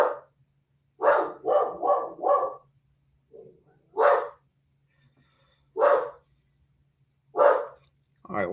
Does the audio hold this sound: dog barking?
yes